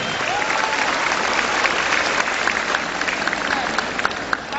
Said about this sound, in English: let us give a round of applause to our 8th summa cum laude.